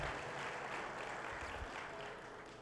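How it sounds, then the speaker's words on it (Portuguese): A church congregation applauds God during a sermon, a steady broadband wash of clapping from a large room, moderately faint and continuous with no voices on top. "Podemos aplaudir a Deus?"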